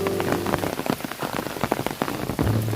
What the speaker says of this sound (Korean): 산사이 처막 끝에 떨어지는 빗방울 소리에 마음이 고요해집니다.